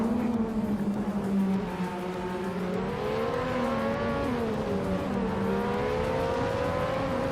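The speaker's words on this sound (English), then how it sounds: "Nox Exodus is leading the race in a Ligier JS31 from 1988." A 1988 Ligier JS31 race car engine drones steadily in a racing video game, its pitch sweeping up and down through gear changes and corners, loud and continuous with no talk.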